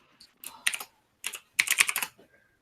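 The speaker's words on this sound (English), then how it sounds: "we actually have 2 people angrily typing right now" Two people type hard and fast on computer keyboards, producing close, sharp clusters of clattering keystrokes in uneven bursts separated by brief pauses, with no speech.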